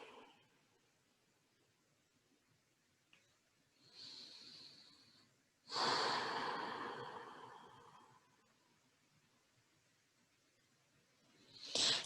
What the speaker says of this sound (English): Inhale deeply and exhale deeply.